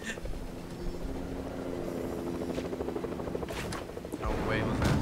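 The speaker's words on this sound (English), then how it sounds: "Fighting to shoot down the helicopter" A helicopter's rotor drone in the Fortnite video game, steady under the action, with scattered gunshots aimed at it and a louder burst near the end.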